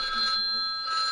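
A telephone rings with an incoming call indoors at a family New Year gathering at a grandmother's home, a steady electronic ringtone held through the whole short stretch with no talk over it.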